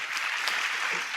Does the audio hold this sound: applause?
yes